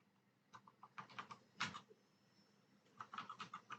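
Command being typed on a computer keyboard, with quick bursts of close, quiet key clicks separated by a short pause and no talk.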